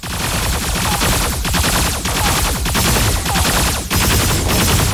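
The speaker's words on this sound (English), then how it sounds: "Shots heard." Rapid, dense gunfire rattles on without pause in the Super Mecha Champions video game. The bursts are loud and close, running together in a steady barrage with brief dips between volleys.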